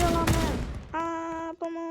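Gunfire in a video game, a shotgun among the weapons: a dense, loud burst of shots at the start, followed by harmonic electronic tones, one held and another returning after a short break.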